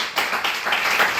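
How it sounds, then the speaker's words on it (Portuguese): A church congregation clapping during a worship service, a short stretch of rhythmic, fairly loud group claps. "Mais uma vez, aplauda o Senhor com o seu melhor."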